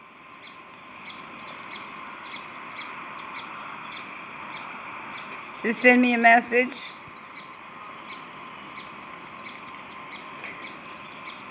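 A sparrow chirps repeatedly in short, bright tweets through a steady insect-like background, with a louder burst of calls in the middle while someone talks over it.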